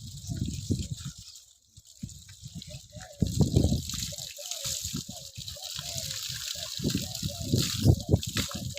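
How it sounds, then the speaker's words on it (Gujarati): Water poured and splashed over a freshly calved buffalo during bathing, coming as repeated gushing, sloshing bursts at close range amid outdoor background noise and a few voices. "ભેંસ નવરાવાની"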